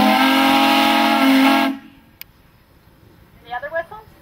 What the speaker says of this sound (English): and it has a couple whistles.